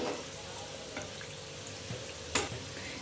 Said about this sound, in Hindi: देखिए हमारे गुलाब जामुन अच्छे से फ्राई हो रहे हैं